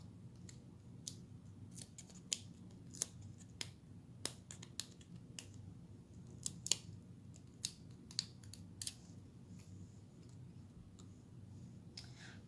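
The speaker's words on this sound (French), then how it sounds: "Mes ciseaux. Donc, je vais couper juste" Scissors snip paper in a quiet room, a dozen or so sharp, crisp cuts in an irregular rhythm, close and distinct against faint background hiss.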